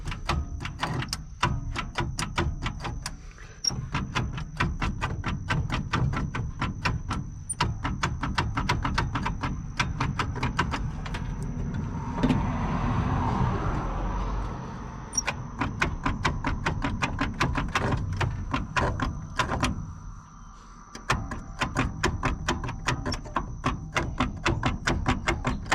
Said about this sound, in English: Now hopefully when I hit the button, it'll spin over, because it's been setting for a while.